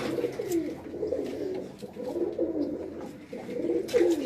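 Domestic breeding pigeons on a rooftop loft coo in low, rolling bursts, several overlapping calls rising and falling close by, with no talk.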